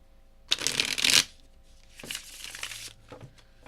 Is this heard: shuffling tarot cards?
yes